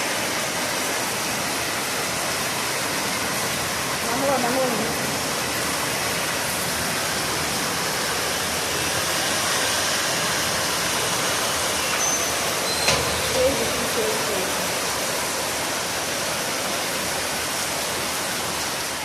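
Afternoon rain falls as a steady, broad rushing wash, loud and unbroken, with only faint small knocks rising briefly above it.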